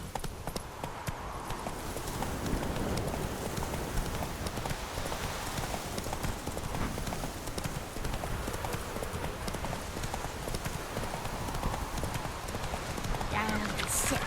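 Hooves of a horse in the video game The Witcher 3 pound in a continuous galloping rhythm, loud and close, over wind and ambient game noise, with a brief spoken command.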